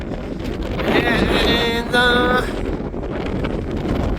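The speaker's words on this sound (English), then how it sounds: "A bit windy, I haven't got my mics on me yet." Wind buffeting an unshielded microphone at the Dover ferry port, a loud continuous low rumble with gusty swells, while a voice briefly talks over it.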